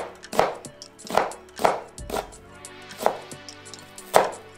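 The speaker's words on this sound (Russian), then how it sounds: "разрезаем одну луковицу напополам. Делаем горизонтальные надрезы. Затем вертикальные." Knife chopping an onion on a cutting board, making horizontal then vertical cuts: six sharp, evenly spaced chops stand out close and clear, with nothing else competing.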